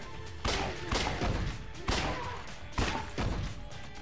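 Bombs dropped in the video game Judgment burst in a rhythmic series of four heavy booming explosions, each with a sharp crack and a rumbling tail, loud and alone over steady game background noise.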